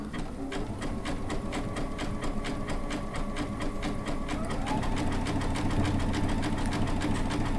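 A Baby Lock sewing machine stitching with a fringe looping foot, metallic thread and fused applique fabric, running steadily with a fast, even needle rhythm, close and loud throughout.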